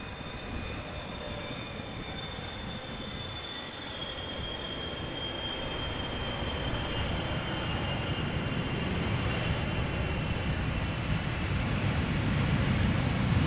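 A long airliner taxiing past at Amsterdam Schiphol Airport gives a steady jet engine roar with a thin whine above it, swelling gradually louder over several seconds as it approaches and passes close by.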